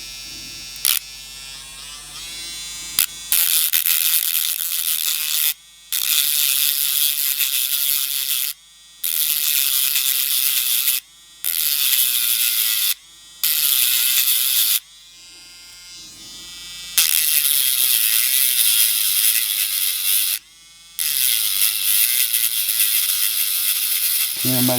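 A cordless USB rotary tool with a diamond bit engraves the casing of an 18650 lithium battery, giving a loud high-pitched whine in repeated bursts of several seconds. Short pauses separate the bursts, and the pitch wavers as the bit bears on the metal.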